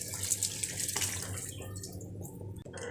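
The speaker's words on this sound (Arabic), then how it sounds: "نغسلها كده تحت الميه الايه الجاريه كده" Potatoes are rinsed under a running kitchen tap, a close, steady splashing rush of water that shifts in tone as hands turn them, with brief clunks and no talk.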